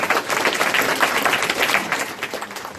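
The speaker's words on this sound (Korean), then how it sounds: "소개시 큰 환영의 박수 부탁드리고요" Welcoming applause from a forum audience as panel members are introduced, a sustained wash of many hands clapping in a hall, even and fairly loud throughout.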